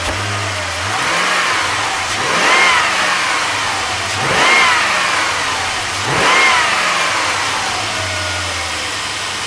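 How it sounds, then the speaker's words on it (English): Jeep WJ engine idling in close, then revved three times with the throttle, each rise swelling and falling back smoothly to a steady idle, with no one talking. "I'll rev it up a few times, and I'm going to shut it off, start it back up"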